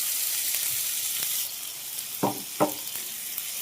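Corned beef frying with garlic and onion in a pan gives a steady high sizzle, which eases off midway before two short, louder bursts of stirring and crackle.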